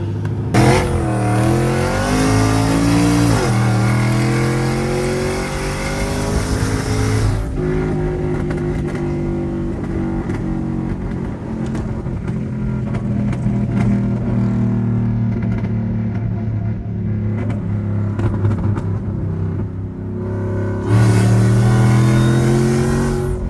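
A Ford F-150 truck's engine drones loudly and continuously while driving, with rising revs as it accelerates, a drop when shifting, then steady cruising and another climb near the end.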